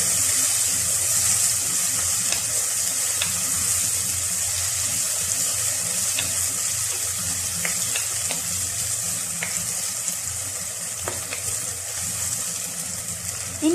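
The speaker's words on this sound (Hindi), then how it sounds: "अब हम टमाटरों को भी फ्राई करेंगे ताकि ये थोड़े सॉफ्ट हो जाएं।" Tomatoes fry in a pan for an arvi masala curry, with a steady, close hiss and sizzle that runs unbroken throughout, dotted with small pops and crackles.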